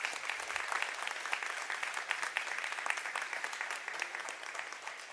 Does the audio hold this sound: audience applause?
yes